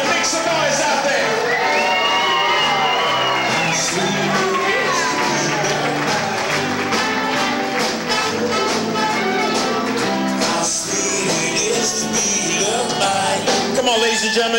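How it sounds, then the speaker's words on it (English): Wedding reception guests cheering for the couple over loud dance music, with whoops and shouts rising above the band's dense mix throughout, close and continuous. "Everybody, make some noise out there!"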